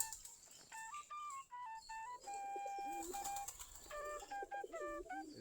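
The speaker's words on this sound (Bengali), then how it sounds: "সাদা ছোট একটা বাচ্চা কবুতরের" Baby pigeons, including a small white one, make repeated thin, tonal squeaking calls in short runs, fairly close and clear against a quiet background.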